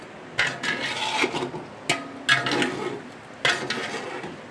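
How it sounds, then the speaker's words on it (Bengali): Spoon scraping and stirring kacchi biryani with salt in a pot at home, a few distinct rasping strokes separated by quieter scraping, close and alone. "লবণ দিয়ে ভালো করে নাড়িয়ে চাড়িয়ে দিচ্ছি।"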